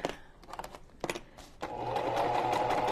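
A sewing machine sews a straight stitch, with a few clicks and handling knocks first and then a steady, close mechanical hum.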